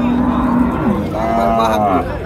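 Cattle lowing at a busy livestock market, one long, loud moo rising then sliding, followed by another drawn-out call, over a constant hum of crowd noise.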